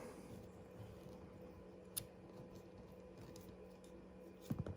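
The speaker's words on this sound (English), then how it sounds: "So let's just cut some wire." Bibury multi-tool pliers cutting through wire: a couple of faint, sharp snips against a quiet background.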